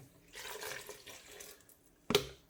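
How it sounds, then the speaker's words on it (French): Water poured into a bowl of pizza dough mixture of flour and salt, a soft close splashing pour for over a second, then a brief louder splash near the end. "Et on met l'eau."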